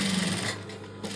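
Sewing machine stitching a seam on a baby suit for a 2 or 3 year old, running as a steady close whirring hum through the whole moment with no talk.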